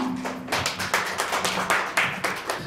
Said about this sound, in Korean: 여러분 회장님을 따뜻한 박수로 맞아주세요.